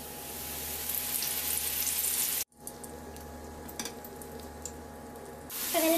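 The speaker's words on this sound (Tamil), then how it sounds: "இப்போ முள்ளங்கி ஃப்ரை பண்ணிக்கலாம்." Radish slices deep frying in oil for crispy vegetable chips, a fairly faint steady bubbling hiss broken by a sudden brief gap, then continuing with scattered crackles.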